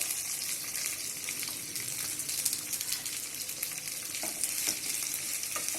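Kerala beef fry with curry leaves and dried red chillies being sautéed in a pan, a loud continuous sizzle with intermittent clinks and scrapes of stirring, close up and without talk.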